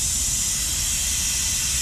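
A Harbor Freight air-operated brake bleeder hisses in a steady, loud, continuous rush of compressed air as it begins pulling fluid, close by with no voices.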